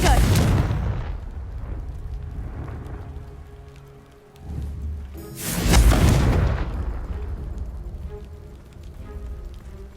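Two heavy booming blasts from the Confringo explosive spell in Hogwarts Legacy, one at the start and a louder one midway, each with a rumbling tail that fades slowly.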